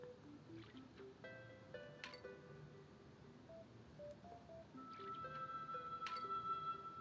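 Watering plants in the Plants vs. Zombies Zen garden video game, soft squishy drips and liquid pours mixed with bright chiming tones and short electronic blips, quiet with no talking.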